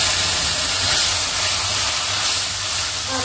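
Soy sauce hisses loudly in a hot pan while Schezwan chicken fried rice cooks, a steady, close, broadband sizzle with no pauses.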